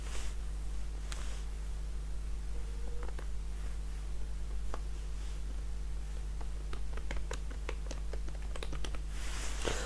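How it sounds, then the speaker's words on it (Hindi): Rapid keystrokes on a computer keyboard while typing in Notepad, a quick irregular run of light clicks over a steady low electrical hum, fairly close and quiet, with no talking. "फादर नेम टाइप कर देंगे यहाँ पे"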